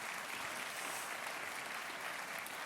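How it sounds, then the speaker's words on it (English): An audience at a stormwater conference keynote session gives a steady round of applause, a dense, even wash of clapping from a large room at moderate distance. "what about a round of applause for our two opening speakers, Ed and Craig?"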